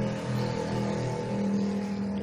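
An old black engine drives a rice-making mill machine and runs in a continuous rumbling drone with steady mechanical tone, fairly loud and unbroken, with no voices.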